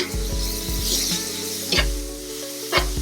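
Zucchini noodles sizzling steadily in a hot frying pan, with a few sharp scraping knocks as the pan is shaken and moved over the heat.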